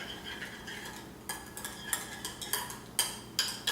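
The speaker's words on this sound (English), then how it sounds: "we're going to give that a whisk" A mixture of red wine vinegar being whisked in a bowl, giving quiet, steady scraping with a run of sharper metallic clinks against the bowl that grow more regular toward the end.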